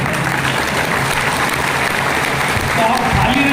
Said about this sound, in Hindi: यहाँ ताली बजाने के लिए आए हो